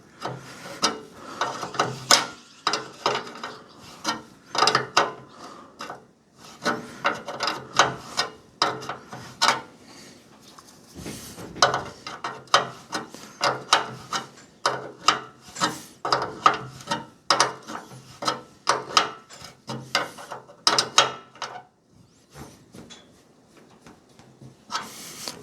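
A ratcheting spanner clicks steadily while tightening bolts on a David Brown 990 Selectamatic tractor during fuel tank and dashboard fitting, rapid close ratchet bursts repeating in uneven runs with short gaps.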